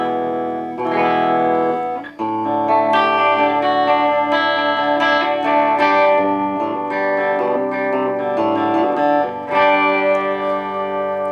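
A distorted electric guitar, a Gibson SG Modern on its bridge pickup through a tube amp, plays sustained chords and ringing notes, loud and continuous, with no voices.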